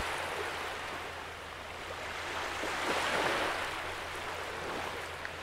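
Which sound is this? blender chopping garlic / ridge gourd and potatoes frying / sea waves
sea waves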